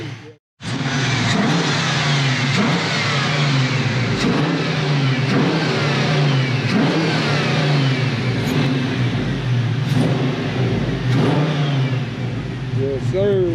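An LS-swapped turbo car engine revs up repeatedly, loud and close, with rising and falling pulls over a rough mechanical roar, while people talk and shout over it.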